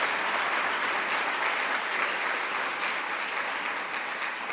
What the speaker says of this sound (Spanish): Regálale un aplauso al Señor tu Dios porque te ama con todo su corazón.